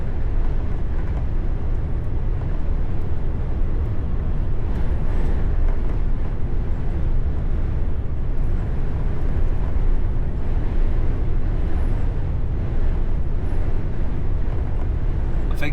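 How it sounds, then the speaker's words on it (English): Wind battering a truck cab, a steady loud broadband roar with low rumble throughout, constant and close with no clear gusts standing apart. "you might be able to hear the wind battering the truck"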